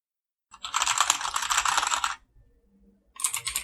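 Mechanical keyboard with Cherry MX compatible red switches on an LTC Nimbleback NB-1041, typed on in a dense, fast run of close key clacks for about a second and a half, a short pause, then another burst.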